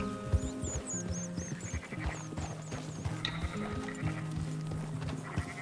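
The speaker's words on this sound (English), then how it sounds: "Can't you control that damn horse?" Horse hooves clip-clop in steady, rapid rhythm in the Western open-world game Red Dead Redemption 2. Light bird chirps and ambient game sounds play over it, with no speech.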